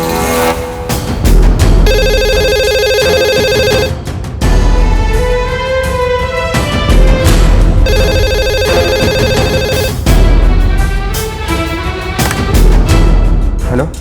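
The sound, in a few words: landline telephone ringing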